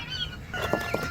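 Rooster crowing in a farmyard setting with ducklings nearby, a few short bright calls over a steady background hum, fairly close.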